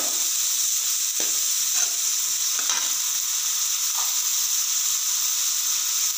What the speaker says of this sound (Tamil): நல்லா பெரிய வெங்காயம் பொடி பொடியாக கட் பண்ணி வச்சுருக்கிறேன். போடுறேன்.